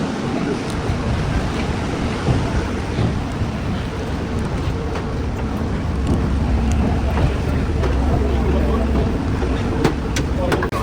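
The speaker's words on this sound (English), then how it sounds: "We're going in the boat. Ocean." Broadband rushing noise of a boat moving over the ocean near Sorrento, a steady wash and low engine drone throughout, with faint voices now and then.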